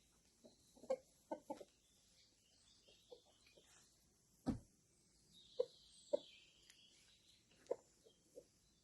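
A hen cackles and clucks in a backyard garden, with short, scattered bursts, some sharper and closer than others, amid faint ambient noise.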